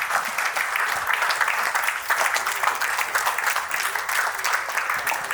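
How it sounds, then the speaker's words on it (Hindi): An indoor audience at a Lions Club event in Howrah, Kolkata, claps steadily and loudly, a dense, continuous round of applause with no voices above it. "जोरदार तालियों से"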